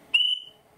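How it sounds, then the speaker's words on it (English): A short, shrill whistle from the sound unit of an O gauge model German railway locomotive, one brief bright toot under a second long, clear and close with nothing else around it. "We have a short whistle"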